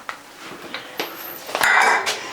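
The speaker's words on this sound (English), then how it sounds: "And I'll just reuse this pan throughout the day. I'm gonna rinse it." Water runs and splashes over a frying pan being rinsed in a kitchen sink, with a few light clinks and knocks of the pan against the basin, rising to a steady close rush of water toward the end.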